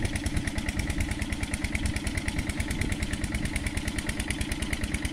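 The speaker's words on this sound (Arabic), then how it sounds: "وهذه ماكينة الري ذاتية الحركة." The engine of a self-propelled irrigation machine in the Egyptian countryside runs at a steady idle, with a close, loud, rapid rhythmic chugging that stays even throughout, with no talk.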